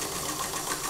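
A sewing machine runs a second row of stitching along the underarm seam of a lined Simplicity 9041 dress, giving a loud, close, unbroken mechanical whir with no voices.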